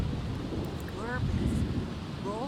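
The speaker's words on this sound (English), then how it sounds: "Why is it raining all day today?" Steady rain and low thunder rumble from a weather effect in The Sims 2 life-simulation game, continuous and fairly loud, with faint chirping game sounds layered on top and no talking.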